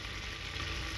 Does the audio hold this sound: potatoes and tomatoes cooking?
yes